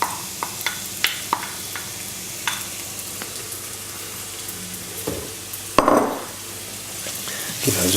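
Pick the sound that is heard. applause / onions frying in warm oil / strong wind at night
onions frying in warm oil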